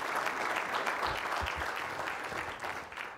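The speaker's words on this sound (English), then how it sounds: "A round of applause for Steve." An audience at a digital media summit applauds a speaker, a steady wash of clapping from many hands that holds evenly and slowly tapers toward the end, with no talk over it.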